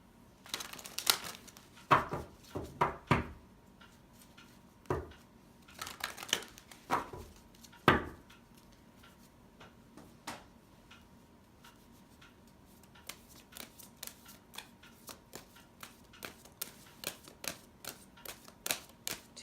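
Oracle cards from Doreen Virtue's Love deck being shuffled and pulled, with scattered sharp card slaps and riffles early on, then a long run of light, quick ticking flicks of cards, close by with no talking.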